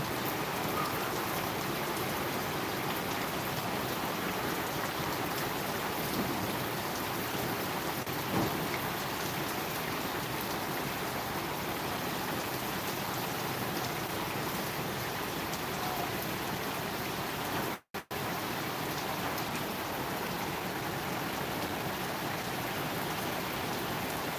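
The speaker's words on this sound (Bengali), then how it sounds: "অনেক পর আজকে প্রায় দশ পনেরো দিন পরে আমাদের বৃষ্টি হলো" Steady rain pours down in a dense, unbroken hiss, nearby and fairly loud, with a brief dropout partway through and no talking.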